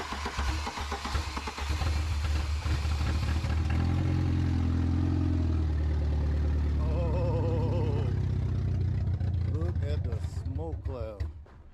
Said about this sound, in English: sound like we have a hell of an exhaust leak, but we got a runner.